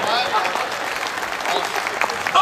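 At a Hindi poetry recital, the audience claps loudly in a dense burst of steady applause that fills the hall for a couple of seconds.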